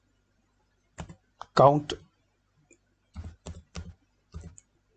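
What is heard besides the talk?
typing an Excel formula on a computer keyboard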